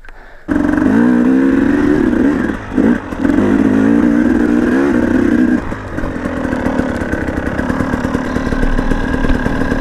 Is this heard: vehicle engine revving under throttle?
yes